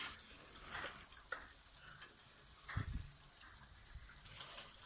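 Chicken karahi with ginger and yogurt being stirred and fried in a pan, producing intermittent scrapes and knocks of the spoon over a low, faint sizzle, close by with no voices.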